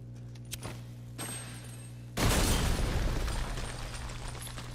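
A pipe bomb blows up in Resident Evil Village: after a few quiet clicks and a low hum, a sudden, heavy blast erupts midway and rolls on as a loud, sustained rumble that slowly tapers off.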